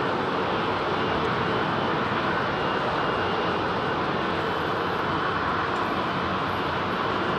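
An Airbus A380 at London Heathrow Airport gives off a loud, continuous broadband jet roar, steady and unbroken throughout.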